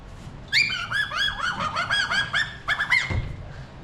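A rapid series of nasal, honking squeals and chirps, loud and close, in quick bursts with brief pauses: a fursuiter vocally imitating an annoyed Dutch Angel Dragon.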